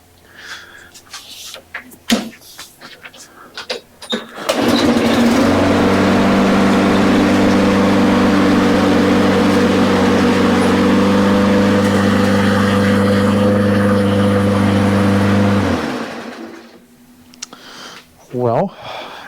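A Briggs & Stratton small engine fires up after its carburetor is cleaned: a pull, then a loud steady idle with a strong low hum lasting about ten seconds before it cuts off, with someone talking before and after.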